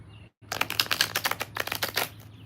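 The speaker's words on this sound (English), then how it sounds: "just want to get a good shuffle here, just so we can mix up the energy pretty well." Tarot cards being shuffled by hand, a quick run of crisp, papery riffling flutters after a brief pause, close and fairly loud, with no talking.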